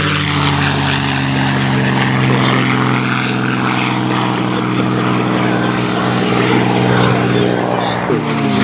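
A P-51D Mustang propeller warbird flies an aerobatic display at an airshow, its engine drone loud and steady with a harmonic buzz throughout, shifting pitch slightly near the end as it pulls up.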